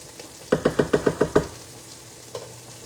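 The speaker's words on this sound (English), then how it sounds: "So let's just stir our potatoes." Potatoes frying in a pan are stirred with a burst of six quick, evenly spaced scraping knocks, then a quieter sizzle and one faint later knock, close and fairly clear with no talking.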